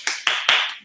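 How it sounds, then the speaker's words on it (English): A few quick hand claps at a live Beatrix Potter storytelling teatime: three sharp, close claps in rapid succession. "Oh yeah, round of applause."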